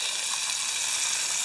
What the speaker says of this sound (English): Fish frying.